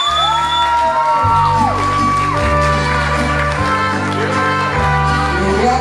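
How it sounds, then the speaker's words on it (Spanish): Crowd at a quinceañera celebration whooping, shouting and cheering over loud sustained party music, dense and continuous throughout. "¡Fuerte el aplauso!"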